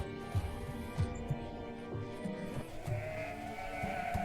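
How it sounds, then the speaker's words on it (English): Sheep bleat repeatedly at a distance, short wavering calls spaced across a quiet outdoor background. "Sheep grazed thickly across the land."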